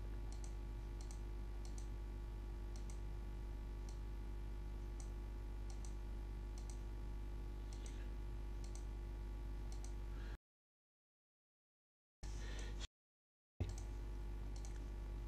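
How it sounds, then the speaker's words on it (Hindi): Mouse clicks from drawing shapes in CorelDraw come as faint, sharp, evenly spaced taps over a low steady hum, with the sound cutting out briefly near the end. "फिर यहाँ पे मैं इसी तरह साथ साथ क्लिक करता जाऊँगा"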